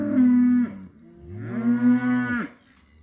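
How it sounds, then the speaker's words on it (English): A cow in a pasture paddock gives two long, loud, close moos, the second one rising and wavering before falling off, with no talk over them. "There goes the cow there now."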